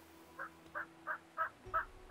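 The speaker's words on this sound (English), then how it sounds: "Oh, so many turkeys now." Turkeys in the video game Settlement Survival give a quick run of about six short, evenly spaced gobbles, clear but fairly quiet over a faint low hum.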